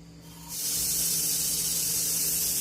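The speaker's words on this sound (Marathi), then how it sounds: "2 शिट्ट्या झाल्यात तर तिसरी शिट्टी होईलच" A pressure cooker of khichdi vents steam in a loud, steady hiss that starts abruptly after a quiet moment and keeps going without a break, close by, with no voices.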